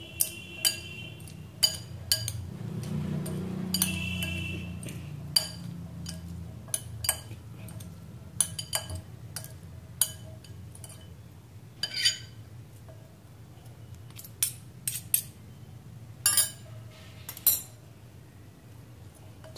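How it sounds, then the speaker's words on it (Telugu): Kabuli chana chaat being stirred and tossed in a bowl, with sharp intermittent clinks of a spoon against the dish and quiet scraping between strikes, close by. "ఇదంతా బాగా మిక్స్ చేసుకోవాలి"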